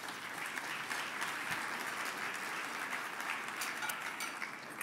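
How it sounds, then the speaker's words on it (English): Steady round of applause from a roomful of mayors at a winter meeting, an even, sustained wash of many hands clapping at moderate distance with no voices over it. "Let's give them a round of applause."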